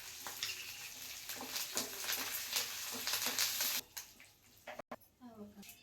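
Curry leaves and dried red chillies fry in hot oil for the tempering of a coconut chutney, a loud crackling sizzle that stops abruptly, after which a voice talks.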